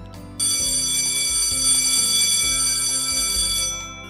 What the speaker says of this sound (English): The bell rang, and the school day was over.